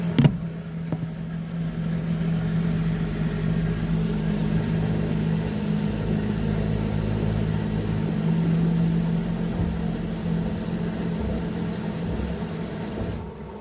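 An LG F2V5GG9T washer-dryer running an anti-suds cycle, filling with water and rinsing, gives off a steady, continuous low hum with a faint whirring tone. It runs evenly throughout at a moderate, close level, with no voices.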